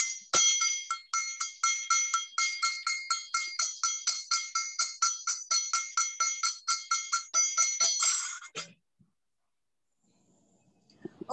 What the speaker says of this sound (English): that sounds like temple bells